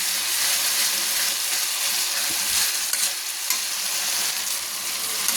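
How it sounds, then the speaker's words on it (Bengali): Chicken pieces in a spiced masala paste sizzle and fry hard in oil for chicken darbari, a dense, loud, continuous hiss with a few stirring scrapes, close up and without talk. "আর একবার ভালো করে মশলাটাকে কষিয়ে নিচ্ছি আমার মশলাটা কষানো হয়ে গেছে তেল ছাড়ছি"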